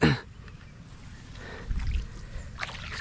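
Quiet sloshing and gurgling of water around a small boat being paddled, with soft splashes and a thump, no talking.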